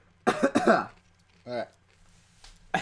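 Coughing from a person eating a Dorito: a burst of close, harsh coughs, then a single shorter cough and a brief spoken word.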